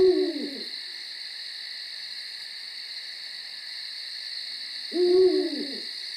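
Two owl hoots ring out at night, one at the start and another about five seconds later, each clear and fairly close over a steady high insect drone.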